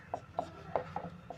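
Pen strokes on paper during a maths lesson, heard as five or six short, close scratchy marks spaced irregularly, fairly quiet and with no talking.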